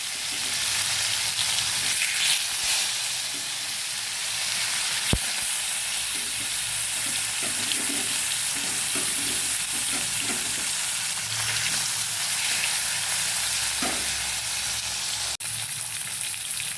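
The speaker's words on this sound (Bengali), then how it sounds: "তেলটা যখন গরম হয়ে গেছে, মাছগুলো আমি ভাজতে দিয়ে দিচ্ছি।" Fresh fish pieces fry in hot mustard oil for a yogurt fish curry, a dense continuous sizzle close by that holds steady throughout, with faint stirring under it.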